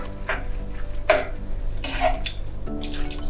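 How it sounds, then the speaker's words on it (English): Fettuccine being stirred in a pot of starchy pasta water, giving soft scraping and swishing with a few utensil clinks against the pot, close and steady with no talking. "so give it a good stir."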